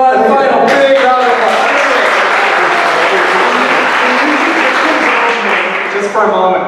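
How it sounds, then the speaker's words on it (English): Audience gives a sustained, loud round of applause at a comics event lecture, dense clapping filling the room throughout with voices audible underneath and a slight fade near the end. "let's give one final big round of applause"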